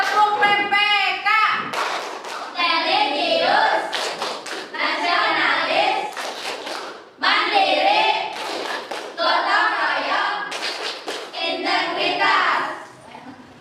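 A classroom group performs the tepuk PPK clapping chant, voices chanting words together in time with sharp, rhythmic hand claps in repeating bursts, close and lively, with brief pauses between phrases.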